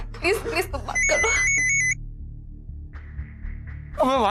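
A phone rings in short electronic bursts of steady tones, close and fairly loud, with people talking before and after the ring.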